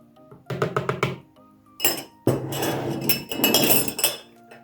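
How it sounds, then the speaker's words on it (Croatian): A whisk beats cake batter with milk and oil in a bowl, making quick rhythmic clinking strokes in bursts, with brief pauses between them. "i opet umutimo"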